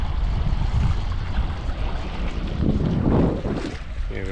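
Wind gusts over the sea at Bar, Montenegro, buffeting the microphone in a continuous rough roar, with waves washing underneath.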